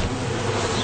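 A dense, steady buzz of many honey bees at a hive close by, continuous and droning with no voices.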